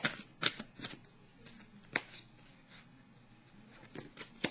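Oracle cards being shuffled and handled up close: papery riffles, soft slides and several sharp snapping taps at an uneven pace, with no talking.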